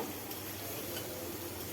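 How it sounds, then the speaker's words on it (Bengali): Potato and pointed gourd pieces fry with turmeric and salt in a pan over medium heat, giving a soft, steady sizzle with faint stirring, quiet and close. "এটা ভাজা করে নেব।"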